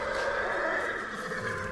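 Horse neighing in the video game Ghost of Tsushima, a sustained whinny with a tonal, wavering quality that holds steady for a couple of seconds against a low ambient game background.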